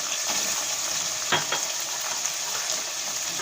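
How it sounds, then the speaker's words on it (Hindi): Green masala fries in a pot for mutton pulao with a steady, bright, hissing sizzle throughout, broken by a couple of brief spatters or scrapes, close and without talk. "तो देखिए हमारा हरा मसाला फ्राई हो चुका है।"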